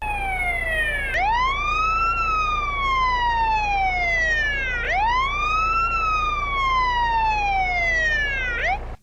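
Loud video game police siren in Grand Theft Auto: San Andreas – The Definitive Edition, uncompressed audio, cycling through rising and falling wails, about three sweeps, full and clear with bright harmonics, steady with no voices.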